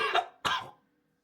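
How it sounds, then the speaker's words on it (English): Two harsh coughs in quick succession, close and fairly loud, followed by silence. "Oh, are you actually coughing?"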